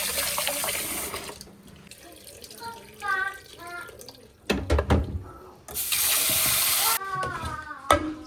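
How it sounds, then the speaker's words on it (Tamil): Toor dal lentils are washed in a sink under a running tap. Water gushes and splashes in uneven bursts, with stretches of steady flow between quieter moments of swishing and dripping. "துவரம்பருப்பு எடுத்து நல்லா வந்து வாஷ் பண்ணிவிட்டு ஊற வைக்க போகிறேங்க"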